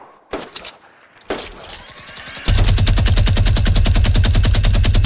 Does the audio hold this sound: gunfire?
yes